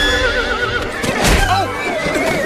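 A horse, Maximus from the animated Tangled: The Series, lets out a loud, close wavering neigh and whinny over a busy scene with light background noise.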